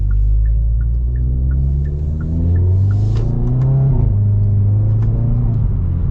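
A 2023 Hyundai N performance car in N mode accelerating from inside the cabin, a loud, deep engine drone rising steadily in pitch through a gear, with faint clicks and road rumble, no talk.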